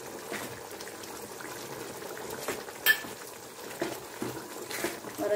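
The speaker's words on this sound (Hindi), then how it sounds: "अभी जो गर्म मसाला लिया वो ऐड कर देती हूँ और अच्छी तरह से मिक्स कर लेती हूँ।" A pot of chhole curry with garam masala, stirred at a soft simmer, with faint bubbling and occasional light clinks of a spoon against the metal pot, quiet and steady.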